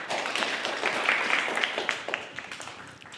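Audience applause from a live talk or workshop crowd, fairly dense at first and thinning into scattered individual claps as it fades out.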